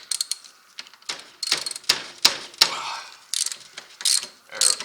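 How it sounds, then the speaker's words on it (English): Close metallic ratcheting and clicking of a wrench working a 19mm nut on the tie rod end of a Can-Am Outlander ATV, in several bursts of rapid clicks separated by short pauses, with no talking. "the nut on here is a 19, and to hold it up top, a 17 wrench"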